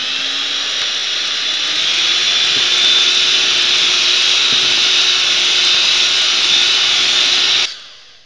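Electric mixer whipping egg whites toward soft peaks gives a loud, steady high whine close by, running evenly for several seconds before switching off abruptly.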